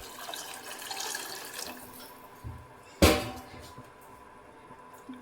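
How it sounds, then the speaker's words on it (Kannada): Water is poured into a cooking pot for a tomato-based egg curry, a soft running trickle followed by a sharp splash and clatter, then quieter drips. "ನಾನು ಇಷ್ಟು ನೀರು ಹಾಕ್ಕೊಂಡಿದ್ದೀನಿ."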